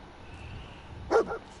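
Dogmeat, the dog companion in the Fallout 4 video game, gives a short double bark at moderate distance over a quiet, low game ambience.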